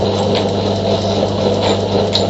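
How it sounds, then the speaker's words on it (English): A revolving tap turns in a tapping machine, cutting a thread in metal with a steady loud mechanical whir and hum, broken by a few faint high ticks and no pauses. "Mind your hands on the revolving tap."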